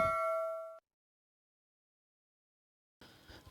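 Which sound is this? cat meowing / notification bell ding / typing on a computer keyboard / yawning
notification bell ding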